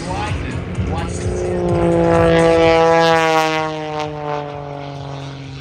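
A propeller airplane does a flat turn at the MCAS Miramar air show, its engine drone rising and swelling, then slowly sliding in pitch as it drifts past, with a voice talking over it.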